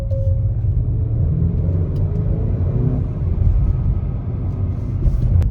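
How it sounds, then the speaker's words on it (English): Engine of a 2021 Acura RDX in Sport Plus mode, a steady loud low rumble with a slight rise in pitch as the revs climb, heard continuously from inside the car with no talking. "If you hit the drive button again, it puts it in Sport Plus, which raises the RPMs."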